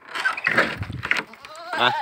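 A goat bleats a few times close by, wavering cries with harmonic stacks, mixed with some rustling and a short bleat near the end.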